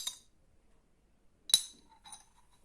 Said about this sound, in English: you need to stir it a bit